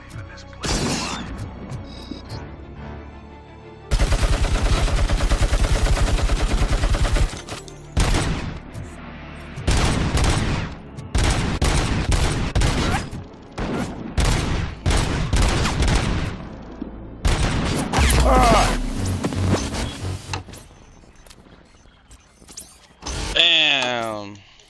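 Sniper rifle shots and heavy gunfire in RoboCop Rogue City ring out in loud bursts, with a long sustained volley and several sharp separate cracks and impacts, mixed with game effects and a voice talking.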